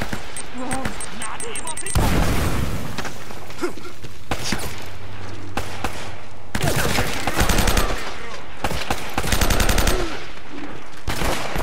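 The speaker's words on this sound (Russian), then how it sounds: "Еще и гранату кидают" A dense barrage of automatic gunfire and grenade blasts in an Uncharted: Drake's Fortune shootout in a treasure vault. Sustained loud volleys with heavy booms, and a voice talking over the firing at times.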